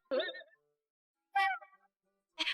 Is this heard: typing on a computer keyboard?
no